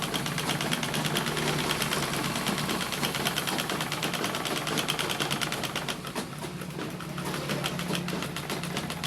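A sewing machine stitches a side seam pocket on a dress, running in a fast, continuous mechanical whir with a steady rapid needle rhythm throughout.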